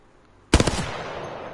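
A Hemlock rifle in Apex Legends fires a quick three-round burst, loud and close, with sharp rapid cracks trailing into a short decaying echo.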